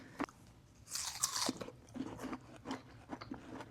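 Someone bites into a crunchy exotic fruit and chews it, producing a sharp, wet crunch followed by several softer rhythmic chewing crunches, close up and quiet with no talk.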